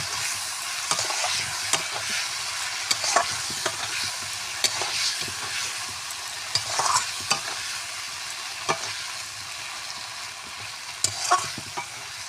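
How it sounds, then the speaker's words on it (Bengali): Egg curry and spices get stirred in a hot pan, with a steady sizzle of frying under repeated scraping strokes from a spatula, close and continuous. "ভালোভাবে মশলার সাথে একটু নাড়াচাড়া করে নেব।"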